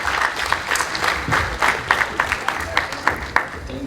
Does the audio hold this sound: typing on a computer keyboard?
no